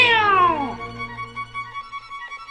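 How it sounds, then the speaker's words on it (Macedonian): An angry cat meows once in an animated story, a loud drawn-out falling cry lasting under a second, followed by quieter high chirping tones. "Мачката го брка клука и дрвецот. Мяу, мяу."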